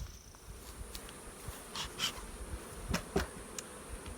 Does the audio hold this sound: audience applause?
no